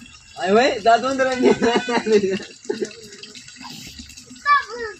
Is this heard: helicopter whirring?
no